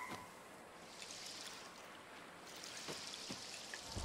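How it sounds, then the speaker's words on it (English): A small waterfall in the video game Lost Ember gives a faint, steady rush of splashing water with a few soft drips and taps, and no talk over it. "Look at the little waterfall."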